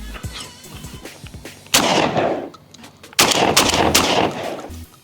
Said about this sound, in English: Love this gun. The Benelli 828U.